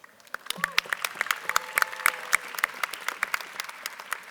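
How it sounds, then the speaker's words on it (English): Audience applause at a university graduation ceremony fills the clip, a dense steady patter of many hands clapping, with a few brief voices and whoops mixed in. "I think that's worth a round of applause."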